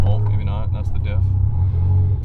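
A Mazda RX-7 FD with a stock differential and gearbox, tuned to about 400 hp, gives a steady low drivetrain drone and rumble from inside the moving car while people talk over it.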